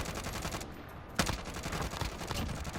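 Rapid automatic gunfire in the video game Call of Duty Warzone, a dense run of quick shots heard at moderate distance with one sharper crack partway through.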